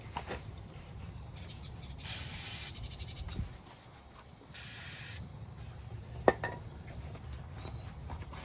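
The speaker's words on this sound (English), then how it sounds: "I'll get some lubricant and I'll squish that" Lubricant is sprayed onto a shackle on a 1936 Chevy coupe in two short, hissing bursts with a pause between them. Faint workshop rustles and a sharp click come afterward.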